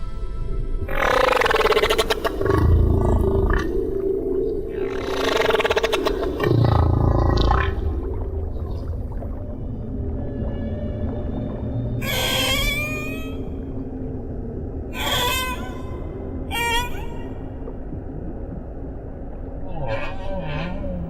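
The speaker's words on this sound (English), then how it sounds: "humpbacks have been singing their extraordinary, complex songs for millions of years" Deep, drawn-out moaning calls and rising whoops alternate with higher squeals and cries, a long sequence of humpback whale song over a low rumbling background.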